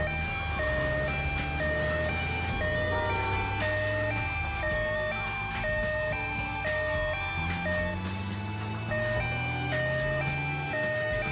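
A vehicle siren in GTA Vice City Stories on PS2 wails in a steady two-tone alternating pattern, loud and continuous over a low engine rumble.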